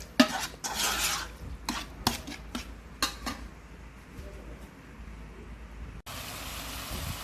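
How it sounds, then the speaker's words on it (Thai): Utensils scrape and clatter against an electric pan in irregular strokes, then a steady sizzle of chicken stir-frying takes over, close and moderately loud. "เราก็เสียบไฟกระทะใหม่ได้ คั่วให้ไก่สุก"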